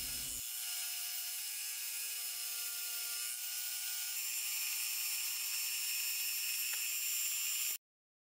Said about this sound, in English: I'll use the grinding cup method to grind the jaws flat.